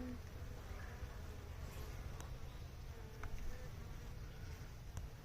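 Honey bees buzz steadily around an opened nuc hive during frame inspection, a dense close hum that continues throughout with faint handling noises and no clear talk.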